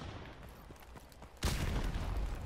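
A grenade goes off in a first-person shooter game: after a stretch of low rumbling ambience, a sudden loud broadband blast arrives and its dense roar sustains to the end, mixed with gunfire.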